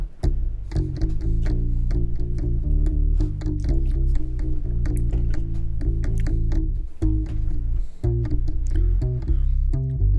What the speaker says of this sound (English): together you combine them and the bass sounds like this